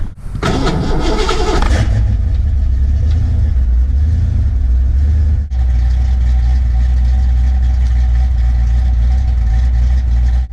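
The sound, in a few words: car engine starting and idling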